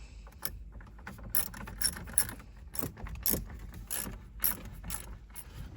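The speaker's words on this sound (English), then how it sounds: "Now that this is secure, we are going to put on these screws." Screws are driven in by hand during an APIM replacement on a 2019 Ford Expedition, producing a run of close ratcheting clicks and metallic tool sounds in uneven bursts.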